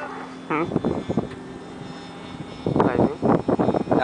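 A small airplane engine at Navegantes runs with a steady low drone and faint tonal hum, while people talk loudly over it in bursts.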